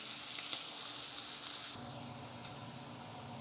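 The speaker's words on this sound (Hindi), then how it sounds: "प्याज को अच्छे से फ्राई कर लेते हैं।" Chopped onion and a green chilli sizzle steadily in hot oil for a brinjal masala curry, a loud continuous frying hiss with no voices.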